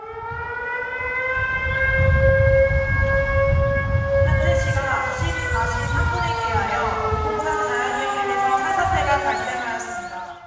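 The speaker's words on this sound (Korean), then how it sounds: "사이렌 소리와 함께 산사태 경보가 발령됐고" A landslide warning siren sounds loud and sustained during a disaster drill at an urban recreational forest, its steady wailing tones drifting slowly downward in pitch over a rumbling background.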